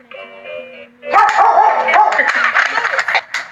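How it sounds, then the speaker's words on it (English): A puppy yips and barks excitedly in close, loud bursts just after a short chiming tone, with people's voices mixed in. "You wanted a puppy."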